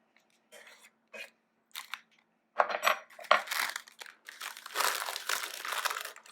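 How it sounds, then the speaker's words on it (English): Parchment paper crinkles and rustles in short bursts as flaked salmon is dumped into a blender, then a longer stretch of louder crumpling, close and alone. "It's easy if you just lift up your parchment paper and dump."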